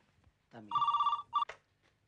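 A telephone rings in a short electronic trill, one long burst then a brief second one, fairly close and clear, with faint background murmur.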